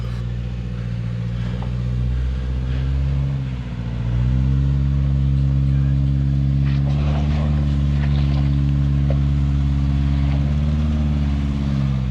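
A 4th generation Subaru Forester's four-cylinder engine drones loud and steady while driving off-road, its pitch rising slightly partway through, with faint knocks and rattles over the hum; no talking.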